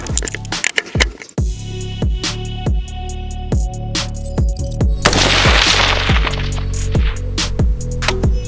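Rifle shots from a rifle with a low-power Tango MSR 1-10x scope firing GGG 69 grain cartridges at a 410-metre range: a rapid, steady train of loud, sharp reports, several per second, with ringing noise building mid-way.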